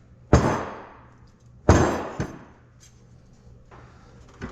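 A rubber hammer taps a stiff part loose on a Cockshutt Hydra Power tractor, three distinct sharp knocks with ringing decay, the first two loudest and the third lighter, then a fainter fourth tap near the end, with no talk.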